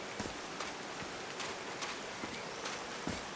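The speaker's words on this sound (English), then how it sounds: "These drops of rain are so refreshing." Rain falls steadily in the Call of the Sea video game on a mountaintop, a soft, even hiss of drops with scattered faint patters, quiet and continuous with no voices.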